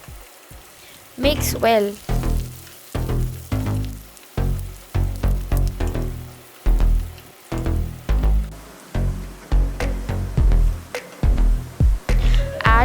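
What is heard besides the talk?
chopped onions frying in a pan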